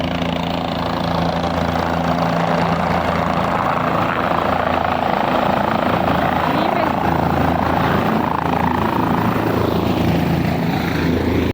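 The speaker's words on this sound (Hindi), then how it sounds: "तो ये हेलीकॉप्टर आ रहा है" A helicopter arrives at the Kedarnath helipad, its loud, throbbing rotor and engine roar filling the whole stretch while a person talks over it.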